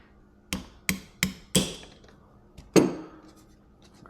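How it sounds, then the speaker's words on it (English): A hammer taps a punch against a pin on a CZ Shadow 2 pistol, giving four sharp metallic strikes in a steady rhythm and then a single harder blow, close and clear with no talk. "Grab our hammer."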